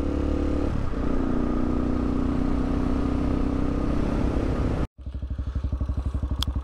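A TBR7 motorcycle engine with a performance camshaft roars loudly and close, then cuts out abruptly. It restarts as a bogging, uneven chug of distinct firing pulses when the throttle is twisted too fast.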